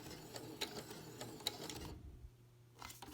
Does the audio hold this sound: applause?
no